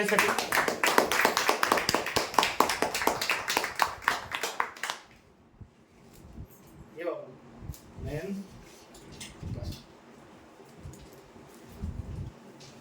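Applause for the winners of a weekly customer prize draw, with a burst of brisk clapping from a small group for about five seconds that then stops, followed by quieter room sounds and scattered movement.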